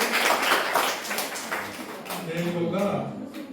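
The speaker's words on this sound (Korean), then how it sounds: "박수 주세요." Brief audience applause at a teacher training session, scattered clapping that thins out as a voice starts talking over it.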